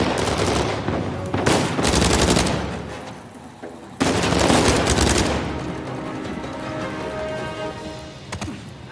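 Gunfire in the Uncharted 4 video game: loud, dense bursts of rapid automatic shots, broken by a short lull before another heavy burst, then scattered crackling shots as the fire thins out.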